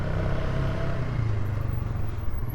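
A vehicle driving slowly over a rough dirt trail, its engine a steady low rumble with continuous road noise, close and fairly loud, no talk.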